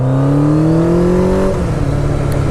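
A 1985 Kawasaki GPZ 900 R motorcycle engine revs hard and close, its pitch climbing steadily for about a second and a half before dropping into a rougher, steady roar.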